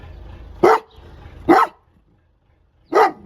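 A farm dog barking on guard, three sharp loud barks, the first two close together and the third after a longer pause, with quiet background between them.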